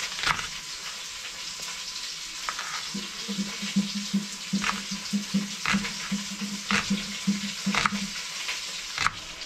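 Steady sizzling of food frying in a pan, with occasional scraping stirs and clinks, no talking.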